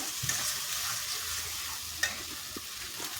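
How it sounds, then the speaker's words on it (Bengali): Spice masala stir-fried in a pan for a jackfruit and prawn curry, with a faint steady sizzle, soft scraping stirs and one sharper clink of the spatula. "ভালো করে মশলা কষিয়ে নেব"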